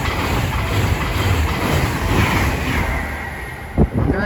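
A Class 390 electric train passes through Watford Junction on the West Coast Main Line with a loud, continuous rumble and rushing wind noise close by. A brief clack of wheels sounds near the end.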